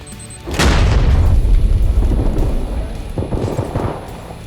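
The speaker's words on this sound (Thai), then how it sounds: "ระเบิด" A heavy explosion in PUBG Battlegrounds zombie mode erupts with a deep loud boom after a brief quieter stretch, then rumbles on for several seconds with a second lesser burst near the end.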